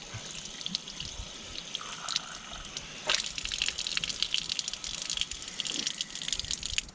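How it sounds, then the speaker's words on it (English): A cleaned squid rinsed out under a running tap, steady water gushing and splashing close by, with a brief louder surge of flow partway through. "All you got to do is just wash the inside out."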